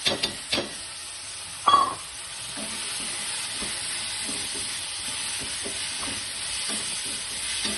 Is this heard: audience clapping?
no